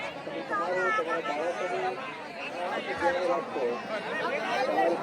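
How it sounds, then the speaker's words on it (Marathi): Steady murmur of many voices as a large crowd of pilgrims descends a slope on the Girnar parikrama route, continuous and close, with no single voice standing out. "पब्लिक बघा किती गर्दी आहे"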